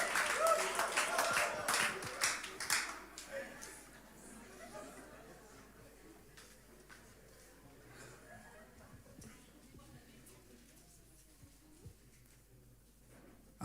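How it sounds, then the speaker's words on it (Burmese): A church congregation at a Tuesday worship service claps to welcome the singers, with loud applause at the start fading into scattered claps and murmured chatter across the room. "အားလုံးလက်ခုပ်တီးအောင်ပြီးကြိုဆိုရအောင်"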